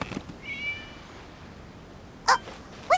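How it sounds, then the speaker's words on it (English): A cat meows twice in the video game Genshin Impact, two short, bright cries near the end, following a faint tonal chime over quiet ambient game background. "It was just a cat."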